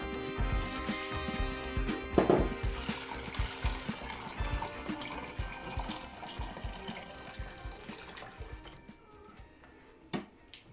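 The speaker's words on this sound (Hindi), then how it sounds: "दाल में हम गर्म पानी डाल देंगे।" Hot water poured into a pot of masoor dal (red lentils) in a home kitchen, a continuous close splashing and trickling that gradually fades, with some clattering of utensils early on.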